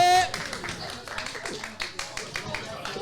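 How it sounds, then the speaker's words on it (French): Scattered applause from a bar audience during a live event, a handful of claps in an uneven patter under voices talking over them. "on peut l'applaudir"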